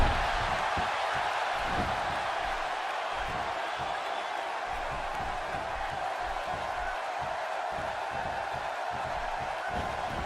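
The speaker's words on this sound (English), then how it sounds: "by the sound of this crowd, I think they're getting what they wanted" A wrestling arena crowd in the video game WWE 2K16 roars in a steady, unbroken wash of cheering noise for the whole stretch, with faint whoops and no clear talk.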